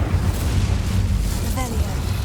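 Incendio fire spell cast in Hogwarts Legacy: a steady, loud roaring whoosh of flame with low rumble persists throughout, with a brief voice partway through.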